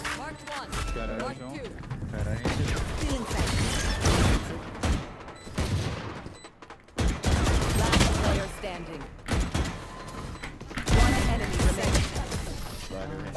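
Bursts of gunfire ring out in a competitive Valorant match at Immortal rank, mixed with loud, excited player voices talking over the shots across the whole stretch.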